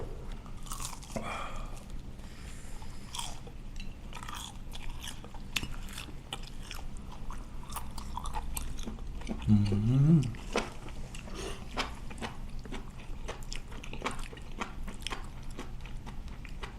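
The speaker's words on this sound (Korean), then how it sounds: "뭘 씹으면 그런 소리가 나요?" Close, crunchy chewing and biting while someone eats spicy mala tang, with a few soft murmurs over steady background noise and one brief low vocal sound.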